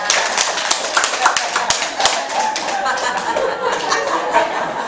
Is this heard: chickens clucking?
no